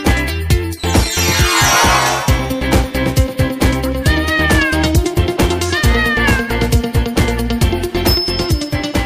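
A cartoonish cat meows a few times over loud, busy music with sweeping glissando tones.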